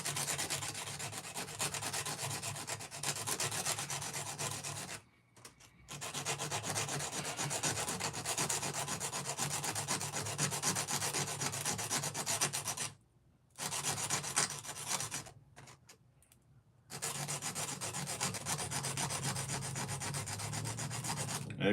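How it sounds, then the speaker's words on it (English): A ring is rubbed smooth against sandpaper in steady, rapid back-and-forth scratching strokes, close and continuous, broken by three short pauses. "all I want to do is sand that portion"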